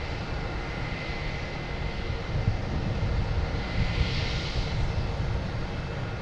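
A Spirit Airlines jet arriving at Boston Logan Airport from Nashville gives a steady, broadband engine roar that holds at a fairly strong level throughout. No one speaks.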